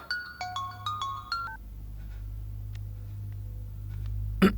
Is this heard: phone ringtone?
yes